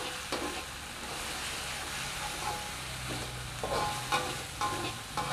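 Ground spices fry over low heat in a pan for a Javanese cassava-leaf dish, a continuous close sizzle broken by soft scraping stirs.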